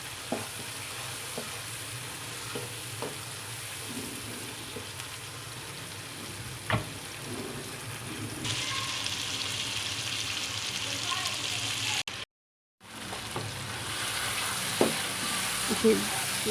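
Masala kaleji, half a kilo of liver, fries in a pan with a steady close sizzle and occasional stirring clicks, briefly cut out near the end before the frying hiss resumes.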